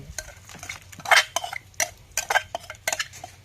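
Rhythmic pounding of chili, lemongrass and shallots in a mortar for Thai cooking, a series of sharp close knocks and thuds at an uneven pace, with no talking.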